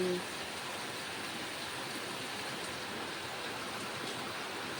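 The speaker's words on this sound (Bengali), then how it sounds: "দেখো সকালবেলা কত বৃষ্টি হচ্ছে" Steady morning rain falling outdoors, a dense even hiss that holds at a constant level throughout without pause.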